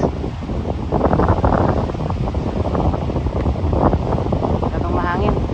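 Strong wind roars steadily across a microphone beside a lake at Waterton Lakes National Park, with waves or water faintly beneath, while people talk throughout.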